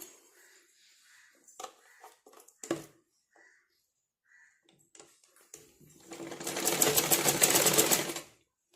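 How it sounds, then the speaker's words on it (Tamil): A few faint clicks and handling sounds come first, then a sewing machine runs in one short, fast, steady burst, stitching a double-folded cross piece along a blouse neck edge. "இதை வந்து டபுளாக ஃபோல்ட் பண்ணி ஸ்டிச் பண்ணிக்கலாம்."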